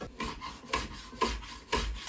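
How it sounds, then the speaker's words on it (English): A freshly sharpened large hand plane is drawn along the edges of a wooden shelf in four short, rhythmic rasping strokes, close and fairly quiet, with no talking. "I tidied up the edges with my recently sharpened big plane"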